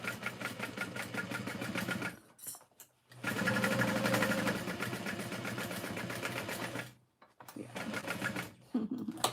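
Sewing machine stitching in bursts during batch sewing of a Rosie pattern, with a loud, close, continuous motor whir broken by two short pauses and then resuming.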